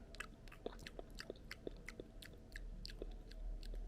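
Someone chews a bite of cake close to the microphone, with soft, moist, rhythmic mouth sounds and faint crunches repeating about twice a second, no talking.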